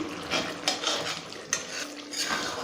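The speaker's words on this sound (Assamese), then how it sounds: "মই লৰাই দিম এইখিনি" A spoon scrapes and clinks against a pan while a vegetarian paneer curry with poppy seeds, cashew and a spoonful of sugar is stirred, giving a few sharp knocks over a faint background sizzle, close and without speech.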